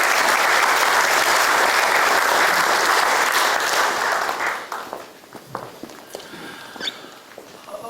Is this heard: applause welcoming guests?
yes